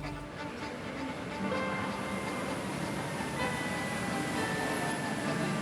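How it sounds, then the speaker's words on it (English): Cercanías local train running to Torremolinos, a faint, steady rumble and rolling hiss of the carriage heard from inside, with no voices. "Then there is the short Cercanías local train to Torremolinos."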